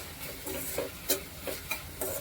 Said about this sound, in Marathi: हा कांदा शिजला मस्तपैकी